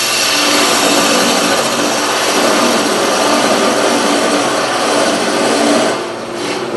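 A wood turning tool cuts a sweeping curve on a lathe, giving a continuous loud scraping hiss of steel on spinning wood that holds steady, then eases briefly near the end, with no speech.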